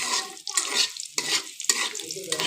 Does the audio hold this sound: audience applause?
no